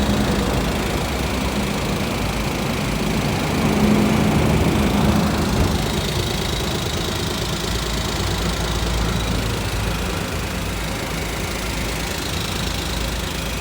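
A Perodua Axia car engine runs steadily after an overhaul, a close, loud and even mechanical hum with a light knocking texture and no talk.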